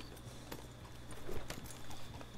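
Horse hooves clip-clop in a Western video game set around Sisika Penitentiary, a quiet, faint run of steps over low ambient game sound and a steady hum, with no voices.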